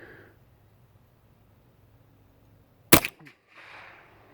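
An older used Ruger 10/22 rifle fitted with an improved trigger fires at a target: one sharp, loud crack in an otherwise quiet outdoor setting, followed by a brief softer tail.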